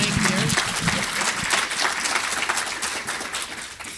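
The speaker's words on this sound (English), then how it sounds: "let's give our panel members a round of applause" Audience applause for panel members at a healthcare forum, a dense wash of clapping with voices mixed in.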